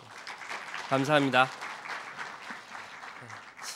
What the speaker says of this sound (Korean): 다시 한번 박수를 보내주시기 바랍니다.